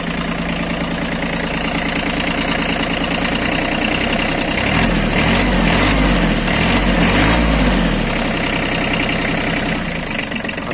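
Iseki Sial TF-5 Japanese mini tractor engine idling steadily and smoothly at close range, a loud continuous diesel-like chug that swells slightly in the middle, with no voices over it.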